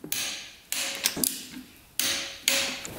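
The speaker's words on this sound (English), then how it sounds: "cylinder head nuts are gonna be torqued to 18 foot-pounds, and then the cylinder nuts are also 18 foot-pounds" Torque wrench tightening cylinder head nuts on a 2-stroke dirt bike, a few bursts of ratcheting clicks with brief pauses and a light metallic tap, close and clear with no talking.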